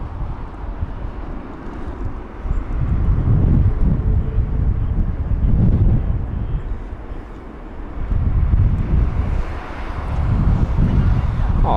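Strong gusty wind buffets the microphone at Heathrow airport as an A321neo lands, roaring in waves with a faint jet rumble beneath.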